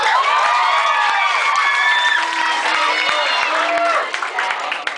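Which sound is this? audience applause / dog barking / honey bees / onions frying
audience applause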